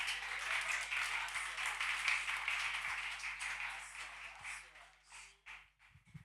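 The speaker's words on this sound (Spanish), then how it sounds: "con un aplauso si es posible" Congregation applause at a Sunday church service welcoming the day's pastor, a dense burst of clapping that thins and fades toward the end, where a voice begins speaking.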